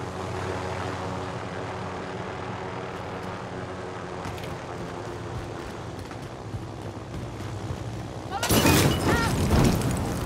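An aircraft in the Warzone video game: a steady engine drone hums under constant game noise, swelling to a louder, rushing roar in the final two seconds.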